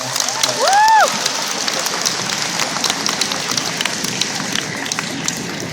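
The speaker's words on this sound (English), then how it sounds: "Let's give them all a round of applause." Continuous crowd applause, a dense patter of clapping with a brief whistle early on, steady and fairly loud throughout.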